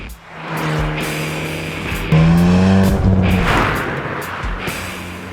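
A Hyundai i20N, a Ford Puma ST and a Toyota GR86 RZ accelerate hard. Engines roar loudly and climb in pitch through the gears, with a sharp tonal whine midway, and no one speaks.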